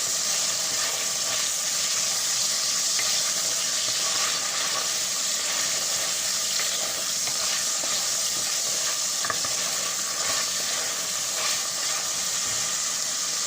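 Chicken pieces frying in a pan on medium-high heat while ground black pepper is sprinkled on, a steady, even hiss and sizzle held close and constant with no one talking.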